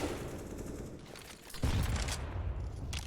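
Grenades and gunfire on the Inferno map in a competitive Counter-Strike match, loud bursts of rapid shots followed by a heavy blast and more firing, close and dense.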